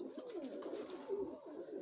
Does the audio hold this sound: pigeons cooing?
yes